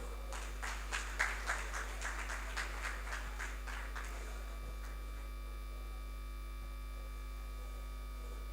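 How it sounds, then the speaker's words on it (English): At a national conference session, a small audience gives brief, scattered clapping for a pharmacist presenter. A few seconds of faint, loosely rhythmic claps sit over a steady electrical hum, then the hall goes quiet. "Please, can we clap for him?"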